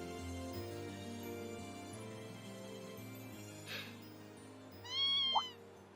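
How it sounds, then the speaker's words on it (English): A kitten in the video game Trails of Cold Steel II lets out one clear, drawn-out meow near the end, heard over soft, steady background music with a brief rustle before it. "Oh, a kitty cat."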